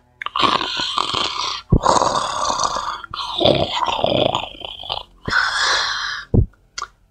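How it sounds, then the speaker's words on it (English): Loud, exaggerated snoring comes as a run of long, rasping, wheezy breaths with snorting edges, close and heavy, with short pauses between them. "I fall asleep and I snore really loud"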